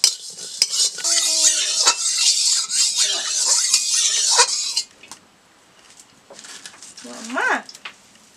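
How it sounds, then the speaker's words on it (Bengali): Whole cumin, coriander and fennel seeds are stirred in a hot pan, with a bright steady sizzle and utensil scraping for several seconds before the frying fades and a voice is heard briefly at the end. "এবার এই মশলাগুলো আমি ভেজে নেবো, গোটা মশলাগুলো। এখানে আছে জিরে, গোটা জিরে, ধনে আর মৌরি, হালকা ভেজে নেবো"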